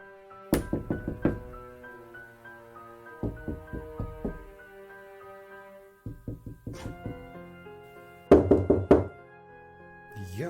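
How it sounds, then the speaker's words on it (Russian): Loud, insistent knocking on an apartment door at night, coming in four separate clusters of rapid raps with pauses between, each knock resonant and close, with no voices. "кто-то стал ко мне стучаться"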